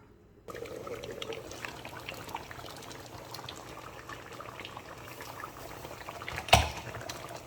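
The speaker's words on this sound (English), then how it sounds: "Turn on my heat and I let this boil and boil." A pot of tomatoes bubbling softly on a stove, a low continuous simmer with a sharp knock or clink near the end.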